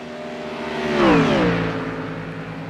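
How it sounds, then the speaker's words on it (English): In the iRacing video game, a racing car engine whines past as it enters the pits, pitch rising then falling as it slows, a lone mechanical drone with no voices. "Sounds like someone entering the pits"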